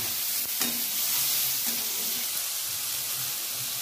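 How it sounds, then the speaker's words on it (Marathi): Salt and turmeric being sautéed in a pan for spicy vermicelli, giving a steady close sizzle with a couple of soft stirring scrapes and no talk. "छान परतून घ्यायचं आहे"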